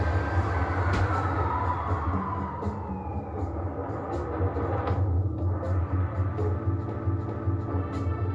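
Subway train in the video game Batman: The Enemy Within, a loud continuous rumble of rolling rail cars with squealing wheel tones sliding across the steady roar, no voices.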